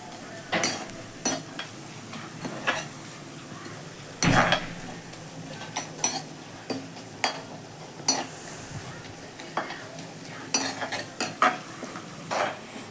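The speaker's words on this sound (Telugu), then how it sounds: "1 స్పూన్ పసుపు వేసుకోవాలి, దాన్ని గరిటెతో బాగా తిప్పాలి." A ladle stirs turmeric into a Sunday chicken curry, scraping and clinking against the pot in irregular strokes over a low background sizzle, with a sharper clatter partway through and no voices.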